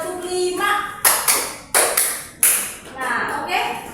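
A class at an elementary school in Medan claps a five-clap pattern, with five sharp, close claps in an uneven two-two-one rhythm. Speaking voices come before and after the claps.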